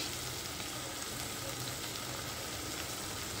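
Masala with turmeric and Kashmiri chili sizzles steadily in a pan, cooking for a prawn, potato and papaya ghonto; a dense, even hiss continues without pause and no one speaks.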